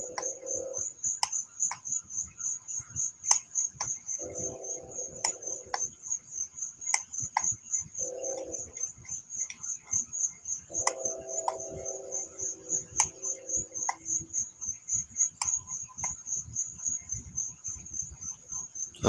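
Crickets chirp at night in a steady, high, pulsing trill that runs from start to finish, with occasional sharp clicks and brief low croaking or humming bursts in the background.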